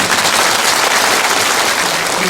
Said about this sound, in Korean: 박수를 한번 보내주시죠.